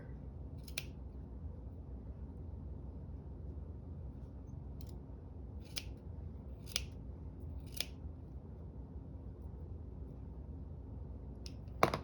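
Scissors make about seven quiet, crisp snips, spaced irregularly against a faint, calm background, while trimming thick areas down slightly.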